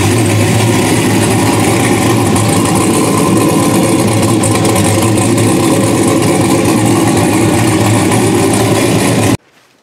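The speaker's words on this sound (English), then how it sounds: "This is the first fire up with the new exhaust." A loud car engine runs close up with a deep, raspy note through a new titanium exhaust, rumbling and revving steadily before cutting off abruptly.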